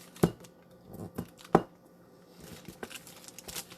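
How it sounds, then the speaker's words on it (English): Knife chopping through cold butter into cubes on a board for scones, a few sharp thuds at irregular spacing, close and clear, with quieter taps between. "So I'm going to cut it in half again, and you want cold butter actually to do this."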